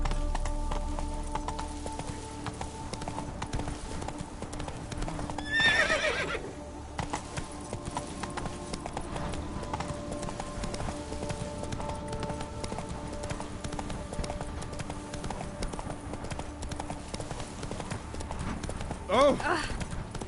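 In The Witcher 3, horse hooves clip-clop steadily in an even rhythm while riding, with a horse whinnying twice, once early and once near the end, over a quiet musical background.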